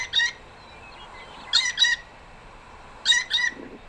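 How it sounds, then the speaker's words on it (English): Blue jay calls in two pairs of harsh, nasal squawks, fairly near and clear over a quiet outdoor background with silent gaps between the pairs. "Yes, it's a blue jay."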